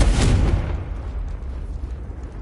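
A Confringo blasting spell goes off in Hogwarts Legacy, a single loud, close explosive boom that hits hard and then rumbles away over a couple of seconds.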